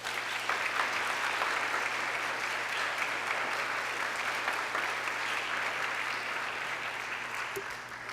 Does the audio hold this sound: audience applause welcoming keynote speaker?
yes